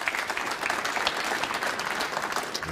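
Snooker crowd at the Champion of Champions tournament applauds steadily after a red is potted to win the frame, a dense continuous wash of clapping throughout.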